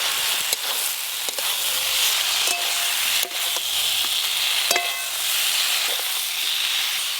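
Okra frying with mustard paste and spices in a pan, giving a steady close sizzle and hiss with a few scattered clicks of stirring, without any voices.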